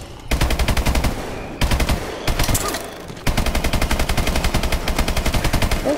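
Gun firing at zombies in the video game Exo zambies: loud, rapid automatic bursts in steady rhythmic strings, broken by a few short pauses, close and dominant with no speech.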